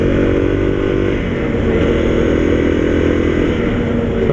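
Honda CRF250L motorcycle cruising in top gear in an 80 km/h zone, a steady, loud, slightly revvy engine drone with constant wind roar, close and continuous throughout with no talking.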